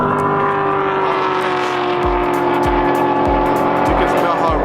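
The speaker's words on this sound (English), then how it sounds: "So as these cars are passing by" Race cars at a Ford GT40 event drone past with a loud, steady engine roar and repeated low thumps, while someone talks over the noise throughout.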